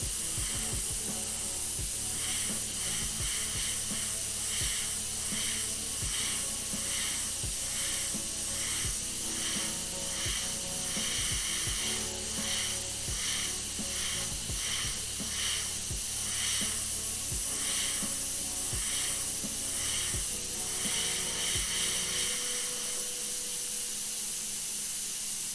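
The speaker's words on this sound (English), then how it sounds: "That's the only time I use a spray gun, when I'm clear coating." A spray gun hisses continuously while laying down clear coat on guitars and plaques, a steady close spray with faint pulsing pressure beats underneath, running alone for about twenty-two seconds before the low drone cuts out.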